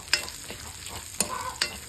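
Turmeric is stirred and roasted in a pan. Soft frying sizzle runs throughout, with a few sharp scraping strokes of the spoon, close and fairly quiet.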